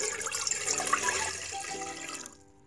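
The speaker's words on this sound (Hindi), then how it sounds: "अब हम इसमें पानी ऐड करेंगे।" Water poured into a cooking pot while making sweet syrup, a steady close splashing stream that fades out at the end.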